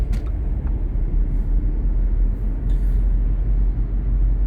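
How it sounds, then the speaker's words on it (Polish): An Audi drives along, heard from inside the cabin as a steady low road rumble and engine drone, loud and continuous with no talking. "Ja znowu w samochodzie."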